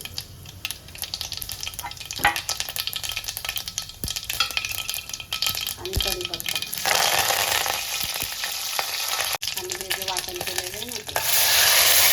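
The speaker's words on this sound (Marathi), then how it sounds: "आता तेल टाकले थोडीशी मोहरी जिरे" Mustard seeds and cumin dropped into hot oil for an amti, crackling and sizzling with scattered pops and spoon clatter, swelling into a loud, dense hiss near the end.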